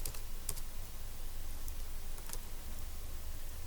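Computer keyboard tapped in short bursts of quiet clicks, with a few sharper keystrokes standing out against a faint hum.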